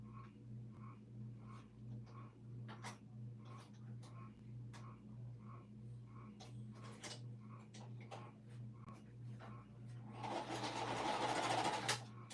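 Home sewing machine stitching with a steady mechanical hum and rapid ticking needle rhythm, fairly quiet, ending in a brief faster run, while someone talks softly nearby.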